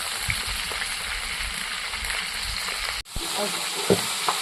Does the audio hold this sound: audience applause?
no